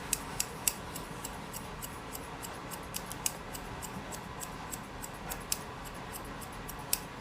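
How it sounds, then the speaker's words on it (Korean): Scissors trim a Pomeranian's fur in a grooming session, with faint, crisp snips in a quick, irregular series over a quiet background hiss. "가위로 자를게요"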